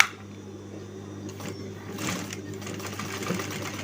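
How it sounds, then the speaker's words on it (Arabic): A sewing machine stitches fabric for a djellaba coat, running as a steady, close mechanical hum with a fast even rhythm for the whole stretch, with faint background sound and no clear talk. "غادي ندوز بالخياطه هنايا ونجي معكم ونجي لعندكم"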